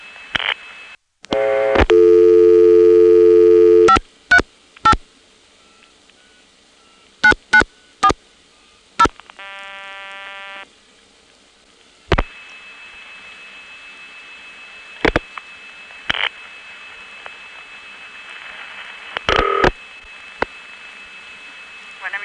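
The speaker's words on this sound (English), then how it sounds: "This goes over an N3 family trunk, and you'll hear the scrit noise." Telephone line tones and clicks over an N3 trunk in Virginia: dialing beeps, short bursts, and a steady high whine with scratchy noise under it, fairly loud and close.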